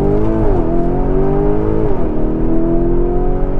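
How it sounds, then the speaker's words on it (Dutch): A car drives through a tunnel with its windows closed, giving a loud, steady engine drone with tonal whine that shifts pitch as the car changes gear, enclosed and constant throughout without speech. "Dus ik ga nu door de tunnel rijden met de ramen dicht."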